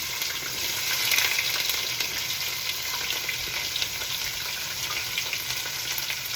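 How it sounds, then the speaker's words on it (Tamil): Onions fry in a hot pan for a country-style crab curry, a continuous close sizzle with soft stirring scrapes, steady and unbroken without voices. "வெங்காயம் போட்டுக்கணும்"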